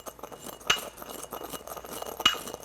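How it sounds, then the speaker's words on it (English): Caraway seeds being worked in a mortar and pestle, with quiet, close scraping and grinding and two sharper clinks of the pestle against the bowl, alone and fairly faint. "And these I've put in my mortar and pestle."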